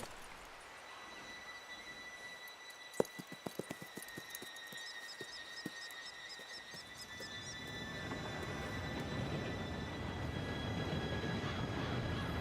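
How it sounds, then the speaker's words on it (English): A train approaching in the video game Red Dead Redemption 2, a distant rumble swelling steadily louder over a few seconds, with scattered clanks and faint clip-clop of horses early on. "Train should be here any minute now."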